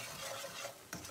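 Cardamom frying in butter in a pan on the stove for semolina halwa, a soft, quiet sizzle with a brief stirring scrape near the end.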